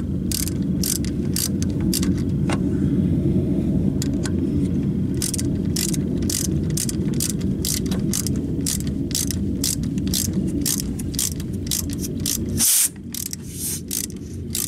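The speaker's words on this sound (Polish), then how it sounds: "Odkręcam teraz listwę." Unscrewing the gas injector rail on a 1.6 AEE Golf 3: a steady run of quick ratcheting clicks from a hand tool over a constant low engine-bay drone, close and moderately loud, with a brief pause near the end.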